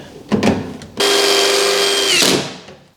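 Power drill driving screws into an HVAC duct connection: two short trigger bursts, then one sustained whirring run of about a second and a half that winds down, close and loud.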